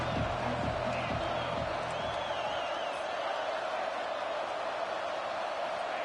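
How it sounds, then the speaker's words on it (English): Home crowd at an Ole Miss football game roaring steadily on a 4th-down play, a broad, constant wash of stadium noise with some voices mixed in, loud and sustained from start to finish. "Home crowd trying to make a difference on 4th down."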